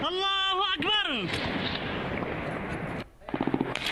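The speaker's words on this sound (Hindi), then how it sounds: "जो गोलियों की तड़तड़ाहट है" Rapid bursts of gunfire crackle over loud shouting voices during fighting between Taliban forces and Pakistan, the firing continuing in a dense rattle before briefly easing and resuming.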